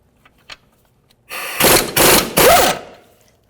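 Ratchet with a 21mm socket on brake caliper bolts of a Jeep Liberty, three loud close bursts of rapid mechanical clicking and whirring in quick succession after a few faint taps.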